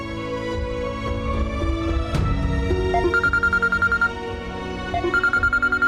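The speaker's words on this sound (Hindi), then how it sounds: "अम्मार का फोन है, स्पीकर ऑन करती हूँ" A telephone rings in repeated electronic bursts, loud and close, over a soft background tone, with a sharp knock partway through.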